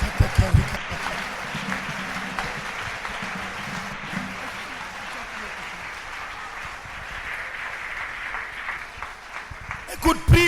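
Congregation at a church gathering clapping together in a steady, sustained wash of applause, heard under a loud, continuous spoken voice.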